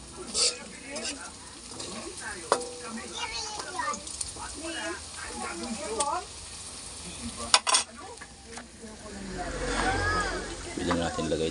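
Onion, garlic and string beans sizzle and spit in hot oil in a home kitchen pan, with occasional stirring scrapes and clinks, steady and close under a person talking.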